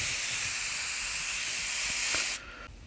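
A paint spray gun hisses loudly and steadily as paint is sprayed out, a harsh continuous blast that cuts off abruptly near the end, leaving a faint fading hiss.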